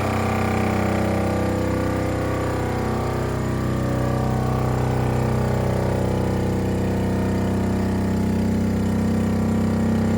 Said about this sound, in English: It's sucking the air out of the chamber.